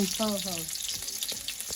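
Onion and green chili frying lightly in a pan, a close steady sizzle with a few stirring clacks, opening under a brief tonal voice-like sound.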